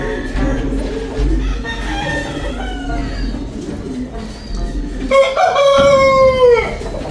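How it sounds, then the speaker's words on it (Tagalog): Egg-laying hens in a coop alongside pigeons, close clucking and cackling throughout, with a loud rooster crow rising near the end and a brief voice heard faintly. "Mga nangingitlog dito sa Manukan."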